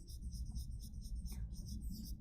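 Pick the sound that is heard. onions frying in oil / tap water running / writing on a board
writing on a board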